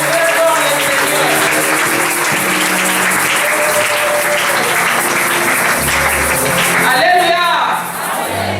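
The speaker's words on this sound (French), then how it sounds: "Acclame très fort le Seigneur." A Protestant church congregation in Ngiri-Ngiri applauds and cheers for the Lord, steady loud crowd clapping with shouts and singing voices woven through, tapering slightly near the end.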